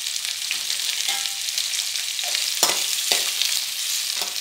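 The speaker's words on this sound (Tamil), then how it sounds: "இதுக்கு சின்ன வெங்காயம், தக்காளி, கருவேப்பிலை நம்ம போட்டு வதக்கிக்கணும்." Small onions, tomato and curry leaves sauté in hot oil with a steady close sizzle, punctuated by several scraping stirs of a spoon against the pan, with no talking.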